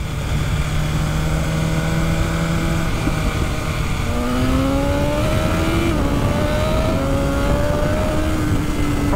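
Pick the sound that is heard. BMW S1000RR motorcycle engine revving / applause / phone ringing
BMW S1000RR motorcycle engine revving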